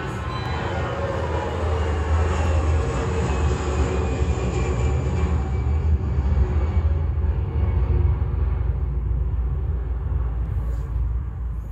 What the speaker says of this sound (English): Here are two examples of recordings made at an airport.